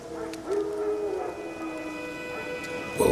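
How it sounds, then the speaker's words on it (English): Wild dogs in The Witcher 3 video game howl in long, drawn-out wavering tones, moderately distant and layered over a steady game ambience, with no talking. "Wild dogs. Yes. More dangerous than wolves."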